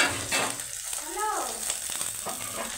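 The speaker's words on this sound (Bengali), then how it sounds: "আর পরেরগুলো আমরা দিয়েছি কড়ার মধ্যে ভাজা করতে" Pieces of katla fish fry in oil in a wok, giving a steady close sizzle with a brief rising and falling tonal sweep partway through.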